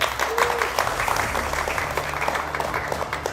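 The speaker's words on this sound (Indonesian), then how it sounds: "Luar biasa tepuk tangan." Students applaud in the studio of a tvOne political talk show, a steady wash of clapping filling the room, with a faint voice briefly audible underneath.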